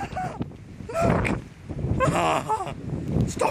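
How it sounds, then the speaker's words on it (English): Strong, gusting wind roars across the microphone during heavy rain, with shouted voices breaking through the loud, continuous rush in bursts. "It's very windy, as you can tell"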